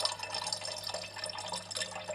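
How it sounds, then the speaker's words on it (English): Around 150 ml of water poured into a laboratory flask holding cooled crude chemical product, a continuous soft splashing trickle, close and fairly quiet over a low steady hum. "Here's around 150 ml of water. We add this to the cooled crude product in the flask."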